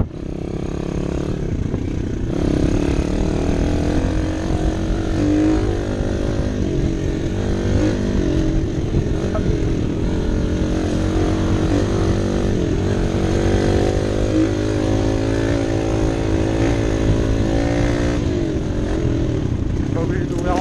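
A 2018 Bastos Dirt 140 dirt bike is ridden during break-in on greasy, slippery ground, its engine droning loud and steady close by with shifting pitch as speed builds, while someone talks over it.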